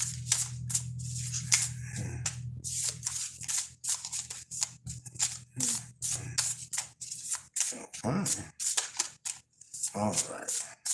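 Repeated papery riffling and flicking of a tarot card deck being shuffled, in quick uneven bursts, close up, with a voice talking at times.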